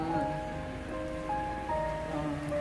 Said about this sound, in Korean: 지금 오늘부터 이제 비가 내리기 시작하니까